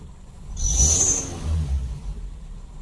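A car engine with high idle RPM and a badly wobbling crankshaft pulley hums, then climbs into a higher-pitched rev with a whining tone before settling back to a steady rumble.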